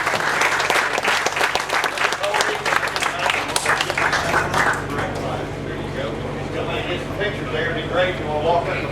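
An audience at a duck calling contest gives the winners a round of applause: dense, steady clapping that thins and softens in the second half, with some voices mixed in.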